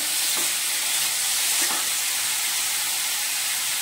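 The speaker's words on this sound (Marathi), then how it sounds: "त्याच्यामध्ये आपण टाकूया कट केलेला दुधी भोपळा। हे आपण मिक्स करून घेऊया।" Cut bottle gourd frying in a pan, a loud, dense, continuous hiss of sizzling oil with a couple of soft spatula knocks early on.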